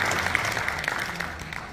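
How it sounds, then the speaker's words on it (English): An audience claps steadily through a short burst of applause at a reggae celebration honoring Marcus Garvey in Miramar, Florida, the sound even and moderately loud with no one speaking over it. "Let's give her a round of applause."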